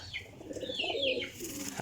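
A desi peepal-type pigeon coos softly and close by, a low murmuring call with a few faint chirps layered over it, with no voices present.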